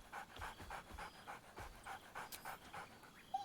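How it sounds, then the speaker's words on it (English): The dog companion in Baldur's Gate 3 pants steadily in quick, soft rhythmic breaths, fairly faint and close, with no clear bark heard. "Scratch barks merrily in something like agreement."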